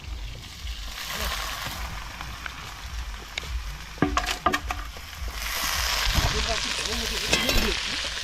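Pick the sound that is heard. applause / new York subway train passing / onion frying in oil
onion frying in oil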